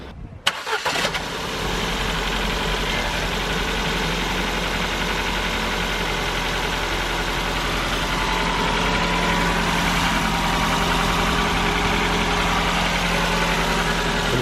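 A Ford Fiesta Mk6 engine cranks briefly and catches, then settles into a steady, loud idle that holds for the rest of the clip, recorded close up, just after rocker cover gasket work.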